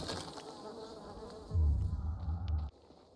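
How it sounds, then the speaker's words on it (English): Bees buzz in the video game Dying Light 2, a steady droning hum that swells louder midway and then drops off abruptly to a faint background near the end. "Bees."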